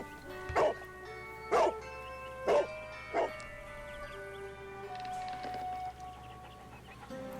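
Toby the dog barking in a Sherlock Holmes detective video game, four short spaced woofs over a soft ambient music bed, followed by quieter whimpering tones.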